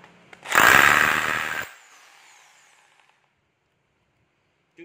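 A battery-powered rotary hammer in chisel mode runs in one loud, harsh burst of about a second, then winds down and fades into quiet.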